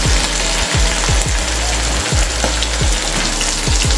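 Mutton sears in a pot over a lit stove, a steady broad sizzle heard beneath a loud low roaring hum with recurring thumping pulses, close and constant.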